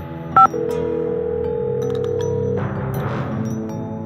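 A telephone number is dialed in the Nancy Drew video game: a short, sharp dial tone beep, then a sustained tonal hum and a softer, noisy line sound.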